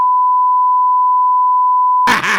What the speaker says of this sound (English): He's just gonna go bleep bleep bleep bleep bleep bleep.